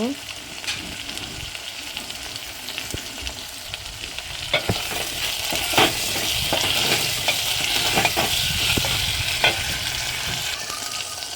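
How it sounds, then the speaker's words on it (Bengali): Ginger garlic paste frying with salt in a pan, a continuous sizzle with frequent scraping and tapping stirs, growing louder partway through. "এর মধ্যে আদা রসুন পেস্ট দিয়ে দেবো স্বাদ মতো নুনও দিয়ে দেব দিয়ে হালকা করে কষে নেব"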